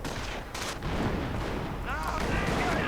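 A grenade explodes during a 2v2 real-time strategy battle. A dense, rumbling boom sits amid continuous battle noise and gunfire.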